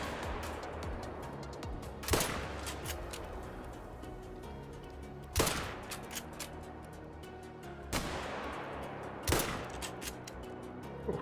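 Three sharp rifle reports from theHunter: Call of the Wild, a hunting video game, crack out at widely spaced intervals over a steady outdoor ambience, each loud and abrupt with a brief decaying tail.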